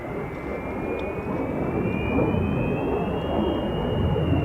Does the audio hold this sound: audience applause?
no